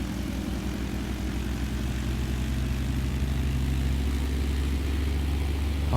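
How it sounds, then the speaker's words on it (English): Twin piston engines of a Britten-Norman Islander run up at high throttle while the brakes hold the aircraft still, a loud, steady, even propeller drone with no voices over it. "hold the brake, increase throttle, make sure the engines are both running smooth and stable"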